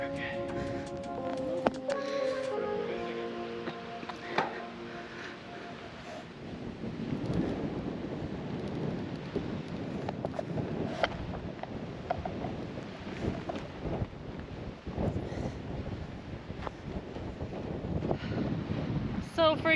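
Strong wind buffets and rumbles against the microphone in a constant, gusty roar on a clifftop on the Aberdeenshire coast, with people speaking faintly under it.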